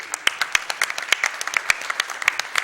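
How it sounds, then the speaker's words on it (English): Scattered clapping from a small group at Awesome Games Done Quick, a speedrunning event, irregular claps rather than a roaring ovation, fairly close and moderate in volume. "One more round of applause"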